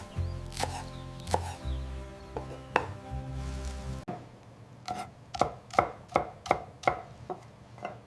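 Kitchen knife chopping fresh herbs and garlic on a cutting board for Vietnamese basa fish sour soup: a few scattered cuts, then a quick run of about eight crisp, close, evenly spaced chops, no talking.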